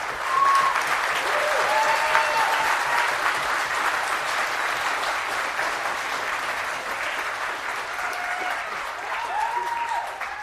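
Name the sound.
audience applause in a tent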